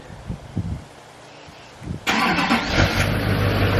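A Duramax diesel pickup truck with a 3-inch downpipe cranks with a few starter clicks, then fires up and settles into a steady, fairly quiet idle rumble up close.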